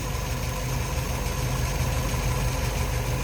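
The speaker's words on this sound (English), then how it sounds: "Nice sounding engine." A 1957 Plymouth Belvedere convertible with a 318 V8 and automatic transmission idles steadily, a smooth, even low rumble heard close and alone, with no talk over it.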